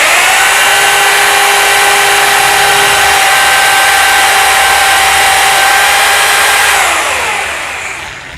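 A rotary hammer drill running in plain drill mode with a 10 mm bit bores steadily for about seven seconds as a loud continuous whine with a constant pitch, then winds down as the bit stops. No voices.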